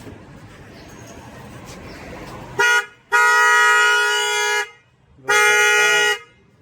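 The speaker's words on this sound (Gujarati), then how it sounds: "જુઓ આ સેટ છે, આ હોર્ન મારશે" A newly fitted aftermarket car horn sounds in three loud, close blasts: a short toot, then a long held blare, then another sustained honk, with quiet gaps between and no talk.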